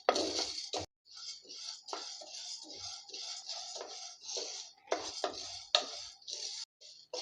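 A utensil stirs ingredients frying in a pan over a low flame, with repeated close metallic clinks and scrapes against the pan and brief quiet gaps between strokes.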